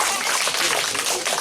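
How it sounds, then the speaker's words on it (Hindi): Several people clapping at a home gathering, a continuous patter of hand claps that stays fairly even, with voices mixed in under it. "ताली बजो ना ताली"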